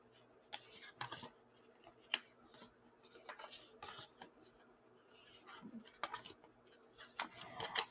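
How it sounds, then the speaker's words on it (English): Tarot cards are picked up and handled near the microphone, giving soft papery slides, flicks and taps in irregular bursts against a quiet background. "Let me pick up some cards here."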